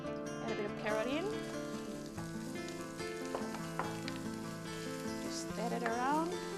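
Carrots frying in oil in a pan, a steady close crackling sizzle running throughout under faint music.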